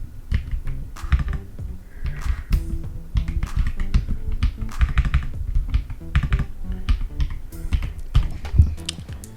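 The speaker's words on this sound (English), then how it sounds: "I'm using this mechanical keyboard. It's a red switch, which means all I have to do is blow on it and the shit types" Fingers type on a mechanical keyboard with red switches, a dense, close run of rapid clacky keystrokes in uneven bursts with a few short pauses.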